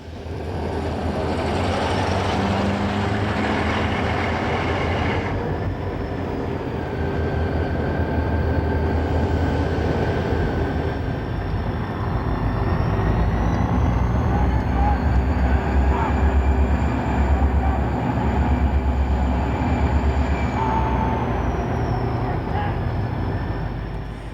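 An Alaska Railroad passenger train rumbles steadily at close range, a continuous low roar of wheels and engine with a faint high tone drifting above, unbroken throughout.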